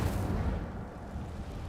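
Incendio fire spell cast in Hogwarts Legacy, a loud, dense roaring whoosh of flame that starts heavy and eases slightly while staying sustained throughout.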